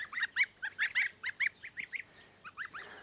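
Free-ranging geese honking repeatedly in a lively, uneven series of nasal calls, fairly close and clear against a quiet background.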